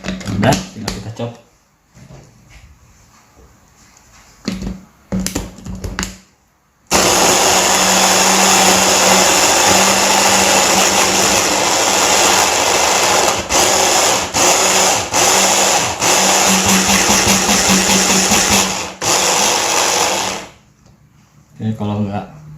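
Brief rustling and clinks, then an electric chopper whirs loudly and steadily for about fourteen seconds chopping tomatoes with olive oil for tomato sauce, with small changes in pitch, then stops.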